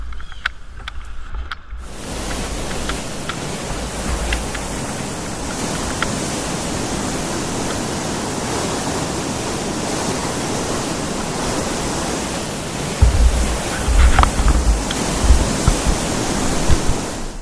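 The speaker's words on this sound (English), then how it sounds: "I paddled out to the foot of the falls and toyed with the current for a bit." Thunder Falls on the Missinaibi River roars loudly and continuously as broadband rushing water, heard close to its foot from a kayak. A brief quieter moment at the start gives way to the full roar, and water splashes near the end.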